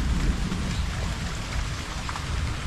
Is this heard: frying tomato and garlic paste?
no